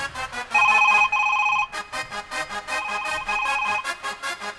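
A loud electronic phone ringtone plays close by, a repeating bright melodic pattern that pulses in short bursts, with no voices.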